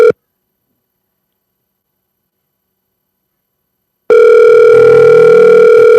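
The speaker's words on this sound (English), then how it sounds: "Ring, pick up your phone." A phone rings back on an outgoing call: after a brief blip and about four seconds of silence, a loud, steady ringback tone starts and holds, close and alone.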